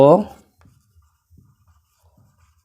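Chalk or a marker scratches across a board in a primary maths lesson, in faint short strokes spaced out across the quiet after a brief bit of a teacher's voice at the start.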